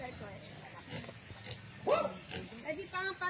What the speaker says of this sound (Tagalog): mga native na baboy?